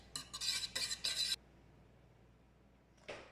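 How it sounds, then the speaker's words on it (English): A utensil scrapes and clinks around a bowl while stirring a batter of milk, eggs, vanilla and melted butter, a few quick close strokes, then quiet, then one more brief clatter. "and we start mixing"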